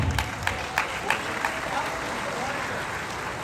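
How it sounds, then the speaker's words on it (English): Clapping crowd at an awards event greets presenters with applause, a few sharper claps standing out early before settling into an even wash, while a voice is heard through it. "nice round of applause for Janet, Kelly, Robin Kennedy, and Mufi Hannemann"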